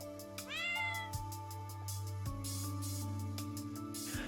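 A cat in the Japanese game Amatarasu Riddle Star gives a clear, drawn-out meow with a rising then falling pitch, heard alone over soft looping background music, followed by quieter game tones.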